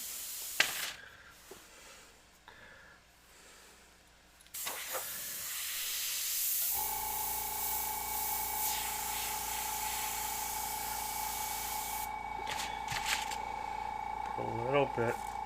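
An airbrush spraying paint through a stencil gives a long, steady, close hiss with a faint tonal whine running underneath. Quieter shuffling comes before it, and soft sounds follow near the end.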